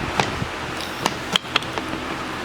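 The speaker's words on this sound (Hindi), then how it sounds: "प्रेशर का कवर लगाएंगे।" Metal lid fitted onto a pressure cooker of beef nalli biryani, a handful of sharp, close clanks and clicks spread over a couple of seconds against quiet background.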